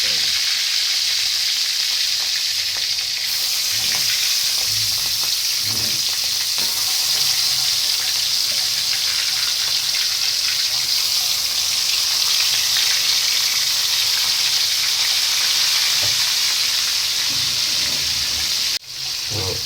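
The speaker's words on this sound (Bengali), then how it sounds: "এবার প্রথমে মাছগুলোকে একটু হালকা ফ্রাই করে দিতে হবে।" Rohu fish pieces frying lightly in hot oil, a loud continuous sizzle and crackle that holds steady and close for the whole stretch, with a brief knock near the end.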